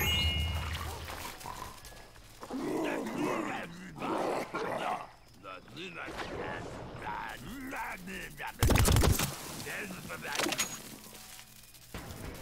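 Bombardment and gunfire in the video game Plants vs. Zombies Garden Warfare 2: scattered shots and rumbling battle noise under near-constant talking, with one loud, sharp blast bursting out about two-thirds of the way through.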